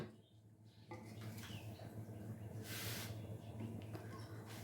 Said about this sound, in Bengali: এবার আমি একটু ঢেকে দেব